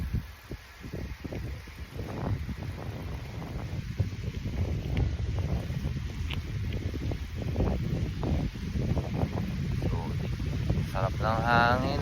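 Wind rushes past during a predawn bike ride through Zagreb, Croatia, a constant low roar of microphone buffeting with faint rustling and clicks that rises slightly toward the end, and no talk.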